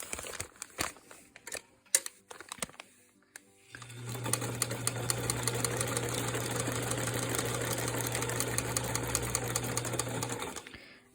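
A sewing machine stitches machine appliqué made with freezer paper, running in one steady, continuous burst of close, even whirring after a few seconds of handling clicks and rustles, then stopping.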